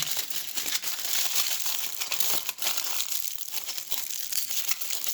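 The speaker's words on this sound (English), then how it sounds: "scrunching and shaping the tin foil" Tin foil is scrunched and shaped by hand into a small figure, giving a continuous close crinkling and crackling with sharper crunches throughout and no talk.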